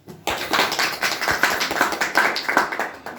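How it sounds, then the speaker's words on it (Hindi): Audience at a training session breaks into dense, sustained clapping that starts abruptly and holds steady for about three seconds. "एक बार आप अपने लिए तालियां बजाइए प्लीज"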